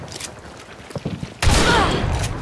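Shotgun fire in the video game Hunt: Showdown, one loud blast with a long rolling echo, preceded by faint quieter shots and gameplay noise.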